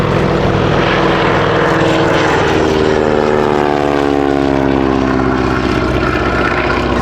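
A vintage propeller aircraft departs at the Shuttleworth Collection airfield, its loud, steady engine drone falling in pitch as it passes close by.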